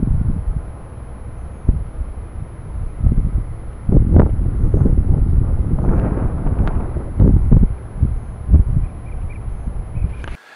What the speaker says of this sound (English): Keep in mind that the wind can affect audio quality.